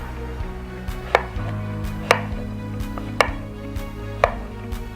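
Knife slicing zucchini on a cutting board: four or five crisp, evenly spaced chops over a steady low background hum, close and moderately loud, with no talking.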